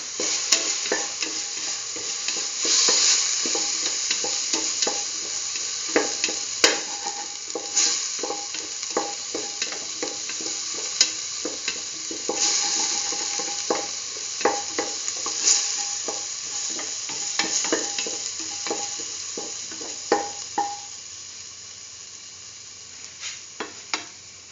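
Ginger garlic paste sautéed and stirred in a pan for a split chickpea and chayote stew, with a steady sizzle and frequent scraping stir strokes close by, no talking.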